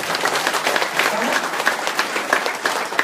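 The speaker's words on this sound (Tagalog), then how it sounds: "Palakpak mo naman yun." An audience at a business presentation breaks into sustained clapping, dense and steady throughout the few seconds.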